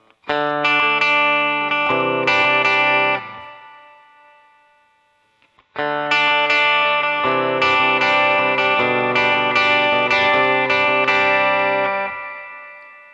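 Guitar played through a NuX Mighty Plug headphone amp with spring reverb on: strummed chords ring out, fade to near silence, then a second longer run of chords follows, clean and upfront with a reverb tail and no talk.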